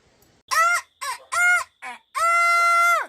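A rooster crows loudly and close by in rural Jamaica: several short harsh calls followed by one long drawn-out crow, with no other sounds around it.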